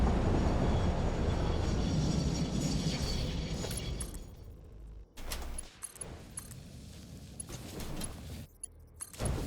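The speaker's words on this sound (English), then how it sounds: "Just grab the train while I'm down here" Train in the factory-building game Satisfactory, rumbling loudly then fading over several seconds, followed by clanks, metallic rattles and short clicks as things quiet down, no talking.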